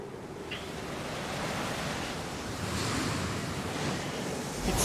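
Roaring wind storm in the Final Fantasy XIV video game, a steady broad rushing gust that swells slightly and stays loud and continuous throughout, with no voices.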